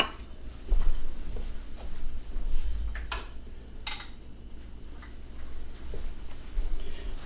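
A spoon stirs baked beans with onions and salt pork in a pot, making scattered light clinks and scrapes against the pot at an irregular pace over a quiet background.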